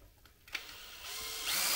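A power drill spins up to bore mounting holes for a rear fastening system, its whine rising and getting louder over under two seconds, close and with no talking.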